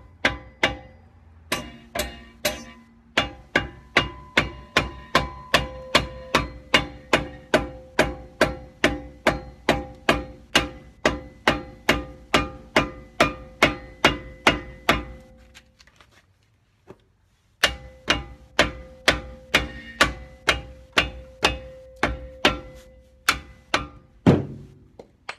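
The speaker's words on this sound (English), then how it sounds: "using our rubber mallet, we will tap the caliper off" A rubber mallet taps a brake caliper off a 1973-87 GMC or Chevy truck, a long run of evenly spaced, close, solid thunks, pausing briefly midway before the rhythmic strikes resume.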